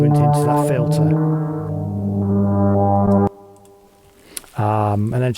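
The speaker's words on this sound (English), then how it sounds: "me playing with the LFO of the Model D" Synth pad from a Behringer Model D, its filter swept by the LFO for slow movement, sustained and loud, cutting off abruptly, then a brief quiet gap before another short synth phrase returns.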